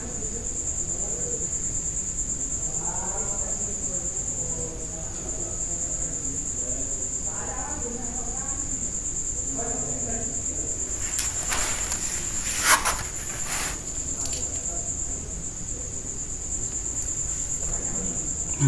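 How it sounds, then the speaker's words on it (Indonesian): Crickets chirp at night in a steady high-pitched drone that runs throughout, with some faint low murmuring and a few brief louder bursts of rustling partway through. "Ada suara jangkrik."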